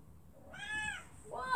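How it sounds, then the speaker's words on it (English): A mother cat gives two rising, drawn-out meows close by, the second sharper and louder, with faint household background. "What are you thinking, Mama Cat?"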